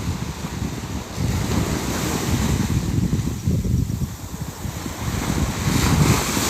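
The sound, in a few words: sea waves at Pantai Gurenggeh beach, Marang Terengganu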